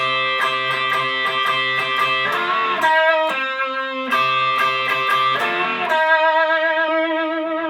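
A distorted electric guitar plays a chugging riff, with repeated palm-muted notes and ringing chords, played alone, loud and close.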